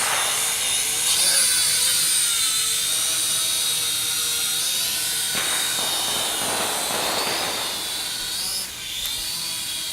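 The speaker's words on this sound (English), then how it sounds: "we're gonna try out my brother's drone apparently" A small consumer drone flies with a loud, continuous high-pitched propeller whine that shifts in pitch as it climbs, close by with no talking.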